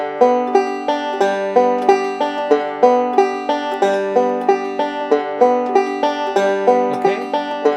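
Fast Scruggs-style banjo picking runs in a continuous roll, twice as dense as a basic pattern, with a low alternating bass note underneath; solo and close.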